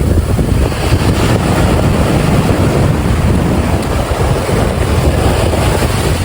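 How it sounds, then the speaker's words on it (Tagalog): Waves wash onto a beach in Bislig City, Surigao del Sur, a loud continuous roar of surf mixed with heavy wind buffeting. "Gusto kong makarinig ng splash ng Dalampasigan."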